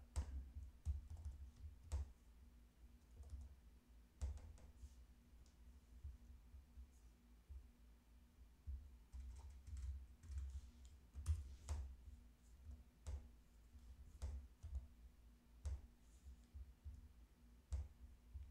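Computer keyboard typing, with scattered key clicks and a few sharper strokes like an Enter press, fairly quiet over a low steady hum.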